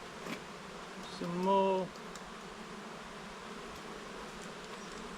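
Honeybees buzz around an open hive as a third super is added late in the year, a steady low hum running throughout with a short spoken remark in the middle.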